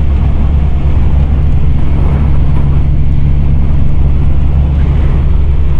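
A lifted Ford Econoline camper van on bigger tires cruises down a highway at about 60 mph, its engine turning low, giving a steady, loud broadband road and engine drone with a constant low hum throughout.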